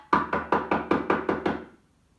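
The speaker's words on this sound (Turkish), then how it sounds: "O zaman başlıyorum kapıyı tıklatmaya." Seven evenly spaced knocks on a door, crisp and fairly close, each ringing out briefly before the next, then silence.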